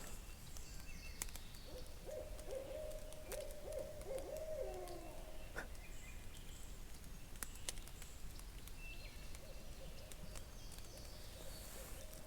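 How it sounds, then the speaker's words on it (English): Faint, distant owl hoots from a pine patch drift through a quiet outdoor setting with soft background hiss and occasional ticks. "That owl's over in that pine patch."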